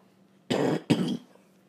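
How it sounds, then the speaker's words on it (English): Two close, sharp coughs from one person, each a short harsh burst, heard alone against a quiet indoor background. "Sorry for coughing."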